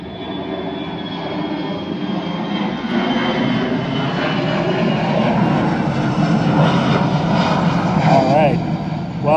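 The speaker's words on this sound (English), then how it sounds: "Boy, we've just got a lot of planes going overhead today." Several airplanes pass overhead outdoors, a loud, continuous engine drone that swells slowly across the whole stretch, with no pause and nothing else standing out.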